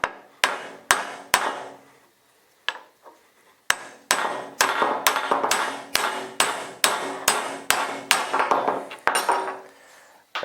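Hammer tapping a metric socket down onto a C10 carrier bearing: sharp metallic strikes, sparse at first with pauses, then a faster regular series of ringing blows, close and clear with no talking.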